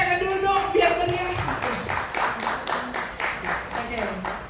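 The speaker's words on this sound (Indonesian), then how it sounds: "Tepuk tangan dulu dong biar meriah" Audience applause at a bioresonance therapy seminar, a scattered run of hand claps at moderate volume that continues steadily under a speaker's voice.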